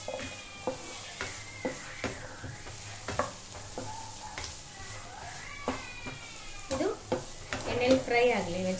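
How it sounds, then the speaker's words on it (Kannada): Carrot, capsicum, onion and green peas fry in a pan for white sauce pasta, a steady sizzle broken by rhythmic spatula knocks and scrapes as the vegetables are stirred, close and moderately loud. "ಫ್ರೈ ಆಗಲಿ ವೆಜಿಟೇಬಲ್ಸ್"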